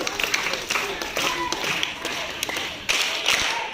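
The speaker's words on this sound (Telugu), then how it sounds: "మరొకసారి క్లాప్స్ ఇద్దాం" Students clapping in a school assembly, a dense round of close, sharp hand claps with a few louder bursts, going on steadily for several seconds under some speech.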